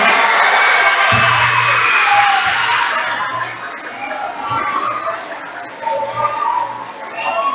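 A school crowd applauds and cheers for a newly introduced principal at a Friday flag retreat, loud clapping mixed with whoops and children's shouts that gradually thin out.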